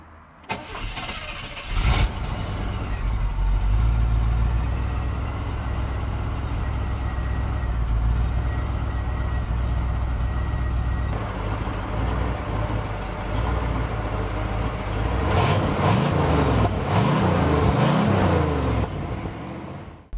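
A 1977 Chevrolet Caprice with a 5.7-litre V8 starts up and idles with a deep, loud, steady rumble that persists for twenty seconds, with a couple of rising and falling revs near the end and no talking.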